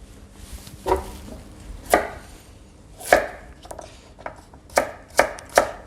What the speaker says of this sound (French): je vais concasser un petit peu ma garniture